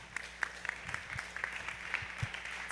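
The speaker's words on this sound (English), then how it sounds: "Let's give a warm round of applause for Josh." Scattered applause from a small audience at a ComfyUI meetup in New York, a thin, sparse patter of a few hands clapping, fairly quiet and close.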